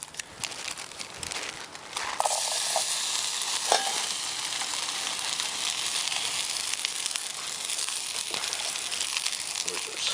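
Potato frying in hot bacon grease in a pan on a camp stove outdoors, a steady broadband sizzle that jumps louder when the potato goes in and then hisses continuously, with occasional stirring scrapes.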